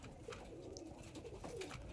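Lambadi patta pigeons at a pigeon loft give soft, faint coos in a short low burst, alone and close.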